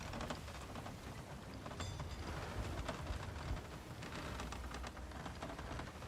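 Heavy storm rain and gusting wind surround a ship at sea in the pirate game Sea of Thieves, forming a dense, steady roar of patter and rumble throughout with no speech.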